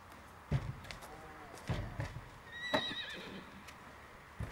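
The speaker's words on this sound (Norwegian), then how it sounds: "Innimellom tar jeg Boldina bort fra hengeren for å gi henne litt tid til å tenke på det som skjer" A horse being loaded into a trailer: several hollow hoof thuds on the trailer, then a short, fairly faint whinny partway through, with soft shuffling between the steps.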